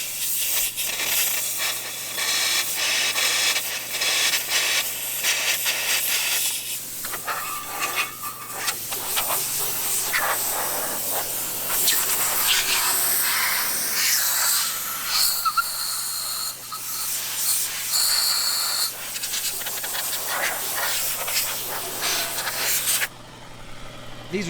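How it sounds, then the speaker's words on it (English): Compressed air blasts through the water pump passages of a Mercury outboard motor being winterized, a loud, close hiss in long, uneven bursts that runs almost continuously throughout. "Just spraying air through there"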